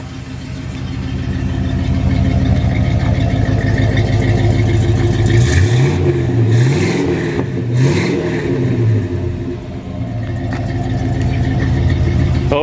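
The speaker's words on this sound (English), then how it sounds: "let you listen to the exhaust." A 1969 Oldsmobile 442's exhaust rumbles steadily up close, rising in a few quick revs in the middle before settling back to a deep, loud idle.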